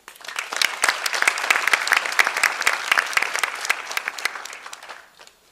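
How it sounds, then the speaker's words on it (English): Applause from the crowd at a St. Luke graduation ceremony, dense and lively clapping holding steady for several seconds before tapering off. "Let's give a round of applause for them too."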